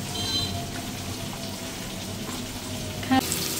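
Potatoes frying in a pan, a moderate continuous sizzle heard up close, with a brief clatter of a utensil near the end and no talking.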